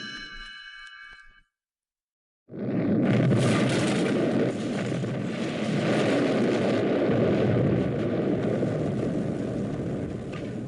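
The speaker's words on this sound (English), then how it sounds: "Explosions rock the Arctic landscape." A short tonal chime cuts to silence, then a massive roaring TNT blast in an Arctic landscape swells into sustained rumbling, crackling debris and booming that continues loudly to the end.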